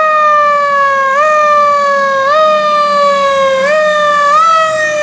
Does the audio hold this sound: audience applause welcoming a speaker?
no